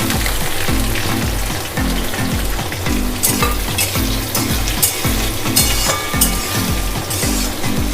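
Onions frying in oil for a ripe jackfruit curry, a loud continuous sizzle with steady stirring scrapes and occasional clinks of the spoon against the pan, no voices.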